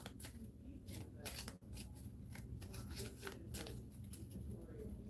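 A deck of game cards being shuffled close up, a run of quick crisp riffling and patting bursts repeated several times over a few quiet seconds.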